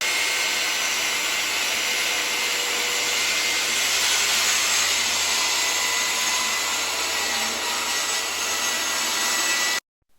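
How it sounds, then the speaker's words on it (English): Power saw with a freely spinning blade cutting through hardwood plywood in one continuous pass, a loud, steady whine and rasp holding for about ten seconds before stopping abruptly. "ensuring that our saw blade spins freely before it engages the hardwood plywood, and if possible engineer a continuous cut"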